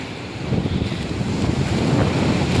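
Rough, churning sea surf roars steadily along a rocky, weed-covered shore, a dense, continuous wash of crashing water mixed with gusty wind buffeting the microphone.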